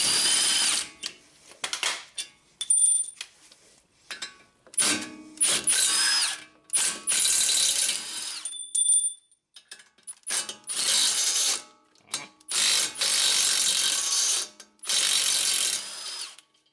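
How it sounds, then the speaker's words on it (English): Bolts being removed from a Honda Accord wheel hub assembly with a power tool, heard as repeated loud bursts of whirring, ratcheting rattle separated by short pauses. "now we'll just remove these bolts"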